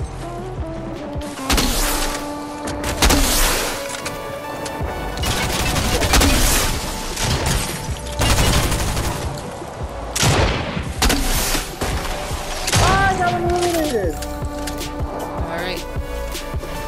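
Video game gunfire in a firefight, repeated loud shots and heavy booming bursts in uneven clusters, with a voice talking over part of the action.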